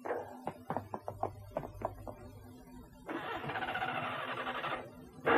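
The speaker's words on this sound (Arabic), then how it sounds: "المحرك لا يعمل." An engine fails to start: a starter clicks and turns over in a quick irregular series of short bursts, then cranks in one longer, steady grinding burst without catching, fairly close and alone.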